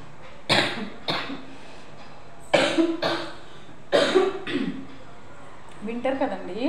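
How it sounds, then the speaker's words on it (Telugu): A winter cough from a sore, irritated throat: several harsh, raspy coughs and throat-clearing bursts in separate clusters, close and fairly loud, with brief gaps of quiet room noise between them. "గొంతుకి రొంప చేసింది, దానివల్ల దగ్గు వస్తుంది."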